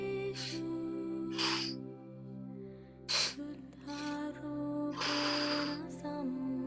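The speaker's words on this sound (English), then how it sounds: "I'm using my nose to breathe in twice" Breathwork breathing pattern: two quick sharp inhales through the nose followed by one long exhale out of the mouth, repeated, close and clear over a soft steady background tone.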